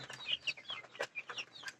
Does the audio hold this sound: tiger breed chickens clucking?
yes